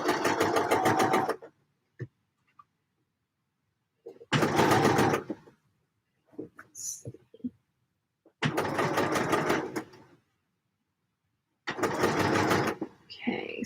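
A sewing machine stitches a wool garment mock-up in four loud, steady runs of a few seconds each, separated by quiet pauses with faint handling sounds.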